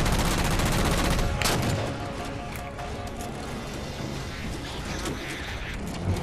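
Turret gunfire in Halo 4 rattles in a dense, continuous barrage, loud and close, easing slightly after the first couple of seconds and then carrying on steadily.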